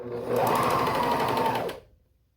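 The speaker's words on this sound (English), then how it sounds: "you're just going to place them right sides together and sew the shoulders" A sewing machine runs in one steady burst of about a second and a half, stitching a quarter-inch shoulder seam on a doll-sized knit sweater with the pieces placed right sides together. It is close and loud, then stops cleanly.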